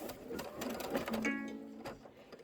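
Embroidery sewing machine stitching a quilt placement line, a steady mechanical whir with rapid needle ticking and some brief tonal hums, close and fairly faint.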